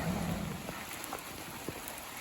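Rain falls steadily outdoors, a continuous close hiss with a few individual drops tapping distinctly on a nearby surface, no voices present.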